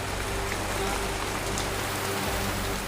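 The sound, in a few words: heavy monsoon rain in Manila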